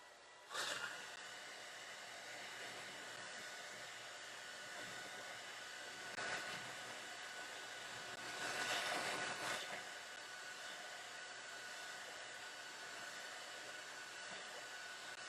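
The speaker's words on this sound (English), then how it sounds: "Let me hit this with the heat gun" A heat gun drying a decoupaged scallop shell covered with napkins gives a steady, close blowing roar that swells briefly a few times, with no one speaking.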